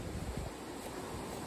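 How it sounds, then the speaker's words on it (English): Steady outdoor wind rushes and buffets on a farm, with a soft continuous hiss of light drizzle. "It's windy and it's drizzling."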